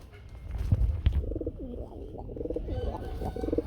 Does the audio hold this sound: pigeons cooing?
yes